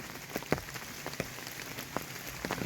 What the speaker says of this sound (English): 'cause it's raining